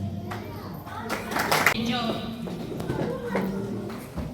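An audience claps at an Eid Ghadir celebration to welcome the next speaker to the stage, steady light applause mixed with voices and children chattering nearby.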